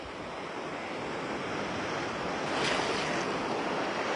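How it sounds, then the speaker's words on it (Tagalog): Ocean surf roars steadily in a continuous wash of breaking waves, building to a louder swell near the end, with no voices. "ang sarap ng alon dito as in"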